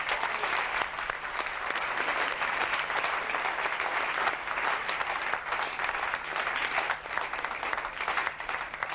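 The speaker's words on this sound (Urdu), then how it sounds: "زوردار تالی۔" A large audience at a Christian gathering applauds loudly, with continuous dense clapping that holds steady for around nine seconds and no break in the sound.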